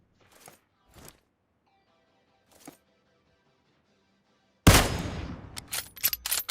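Kar98k sniper rifle fire in a shooting video game: a few faint sharp cracks early on, then a loud close shot with a decaying tail followed by several quicker reports.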